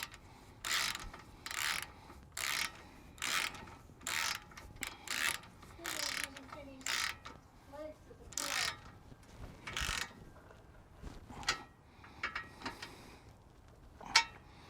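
Ratchet tightening a castellated nut on a car axle during a CV boot repair, clicking in about a dozen short, evenly spaced bursts of rapid ratcheting, close and fairly loud with no talk.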